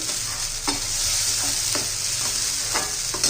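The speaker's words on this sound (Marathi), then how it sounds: "जितकं म्हणजे आपण चांगलं परतून घेऊ ना तितकी भाजीला चांगली टेस्ट येते" Egg curry masala sautéed in oil until the oil separates, a bright steady sizzle with repeated spatula scrapes and stirs every half second or so, close and loud, no talking.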